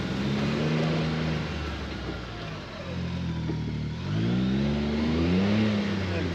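A CF Moto U10 Pro UTV engine pulls at full throttle, a loud droning tone that climbs in pitch, dips briefly, then rises again as the vehicle accelerates, with no talk over it.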